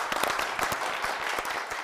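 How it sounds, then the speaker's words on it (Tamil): Studio audience applause for the Sirichaa Pochu team on a Tamil TV game show, a dense and even wash of clapping for a couple of seconds, heard alone. "நம்ம சிரிச்சா போச்சு டீமுக்கு ஒரு பெரிய கைத்தட்டல்"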